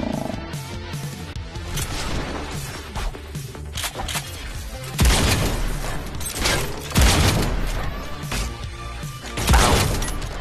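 Shotgun blasts in the VR shooter Robo Recall, a dense run of loud booming shots with three heavier bursts near the end, layered over constant game noise and mechanical clatter.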